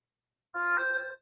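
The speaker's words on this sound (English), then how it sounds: "Boy, my phone's going nuts now, eh?" Phone ringing with notifications: a single short, clear electronic chime tone, a bright harmonic ring lasting about half a second, alone in silence.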